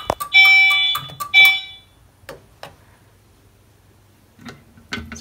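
A home fire alarm system sounds after a pull station is pulled, giving several sharp, loud tonal beeps in quick succession, then quieter clicks and scattered handling noises, no talking.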